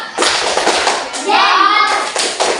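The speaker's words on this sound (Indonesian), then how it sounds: "Kasihkan tuh tepuk jempol." Schoolchildren in a combined-grade classroom give a rhythmic thumb clap, short bursts of hand sounds mixed with children's voices and an adult speaking, close and fairly loud.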